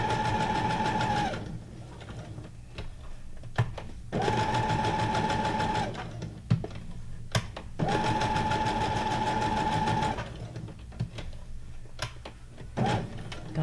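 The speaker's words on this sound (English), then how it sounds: "God, this sewing machine is so far from me." A sewing machine runs in long steady bursts of about three seconds, three in all, with a strong even hum. Short clicks and knocks fall in the quiet gaps between runs.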